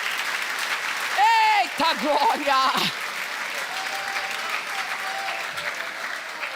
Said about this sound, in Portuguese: Então aplauda o nome do Senhor.